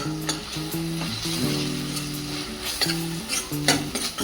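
Spices stirred and roasting in a pan for dhaba-style shev bhaji, a continuous close sizzle with scraping spoon strokes and brief clinks throughout, no voices.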